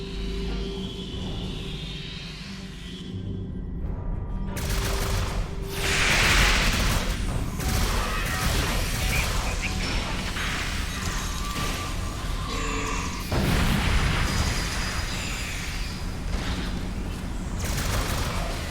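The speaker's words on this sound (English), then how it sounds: "Weapons at highest setting. Open fire!" Starship weapons fire in Star Trek Online, with bursts of weapon fire, whooshes and explosive crashes layered over a steady engine hum and short musical tones.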